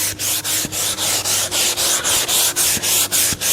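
A sheet of 220 grit sandpaper is rubbed by hand over wood in steady back-and-forth strokes, about a dozen even rasping passes with brief pauses at each turn, close up and loud.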